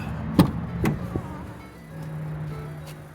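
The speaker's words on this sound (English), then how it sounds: "Power windows are working." Power windows on a 2010 Ford F150 Raptor run with a steady low motor whine for a few seconds, preceded by a couple of sharp clicks and thumps, close and fairly quiet inside the truck cab.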